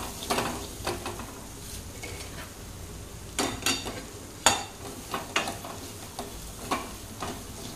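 Crushed peanuts are stirred into potato bharit in a pan, with repeated scraping strokes of a spoon over a soft sizzle, each stroke sharp and close, arriving in an irregular rhythm with no talking.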